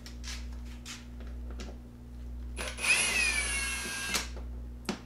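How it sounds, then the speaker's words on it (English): A power drill whirs briefly while driving Phillips screws into the panel of a Predator 3500 generator, one short high-pitched burst in the middle of the clip between quiet handling knocks, with a steady low electrical hum underneath. "Remember my warning about using a drill in these screws."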